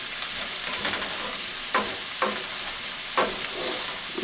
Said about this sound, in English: you want to cook it until the onions are pretty much translucent, opaque, transparent